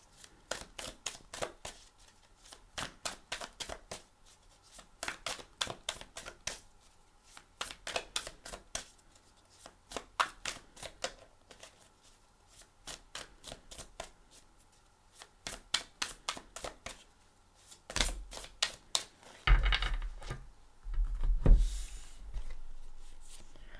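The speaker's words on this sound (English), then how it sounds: "Let's get the last two cards from this deck out." A tarot deck being shuffled in quick bursts of riffling card flutter with short pauses between, followed by louder handling thumps as cards are drawn and laid down, close and alone.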